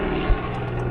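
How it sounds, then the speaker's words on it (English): A helicopter passes overhead, a steady low droning rotor and engine roar that fills the background evenly and stays loud throughout. "Chopper."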